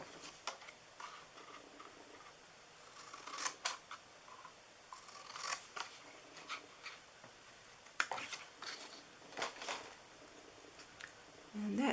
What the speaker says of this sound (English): And I'm just going to cut that out.